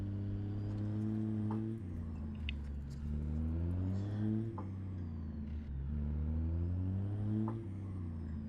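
International HX truck engine in American Truck Simulator pulling away, a deep rumbling diesel drone rising in pitch through several gear changes, steady and close with no talk.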